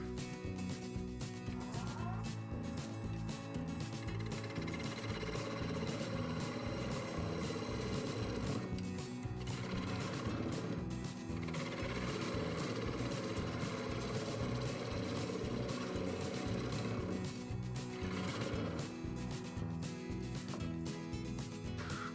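Wood lathe spinning a workpiece held in dovetail chuck jaws at 1000 RPM, giving a steady, loud mechanical whir with rhythmic rumble and occasional scraping throughout.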